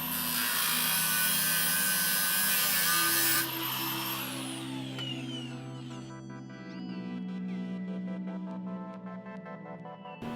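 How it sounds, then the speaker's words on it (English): A Sawzall reciprocating saw cuts through the ribs of a bellhousing, loud and close: a dense, high buzzing rasp that drops to a lower, rougher grinding partway through as the blade bites, running steadily without pause. "Start by cutting into these little ribs so that we get a nice spot for our Sawzall to sit in"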